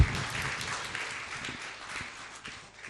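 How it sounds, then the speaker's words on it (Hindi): A large audience at a Jain religious discourse gives a warm, sustained round of applause welcoming a guest, dense clapping that gradually tapers off over a few seconds with no voices on top. "जोरदार तालियों से आप स्वागत करें"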